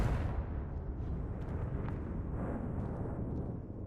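A Confringo spell explosion in Hogwarts Legacy erupts as a loud, sustained low rumbling roar lasting several seconds, with faint crackles above, heard alone.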